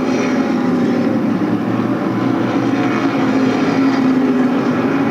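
SK Modified race cars roar around the Stafford Speedway oval in a 1992 feature race, a loud, continuous massed engine drone with no break.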